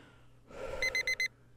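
An electronic alarm clock beeps in the video game Doki Doki Blue Skies: a breathy gasp, then four quick, bright, evenly spaced beeps.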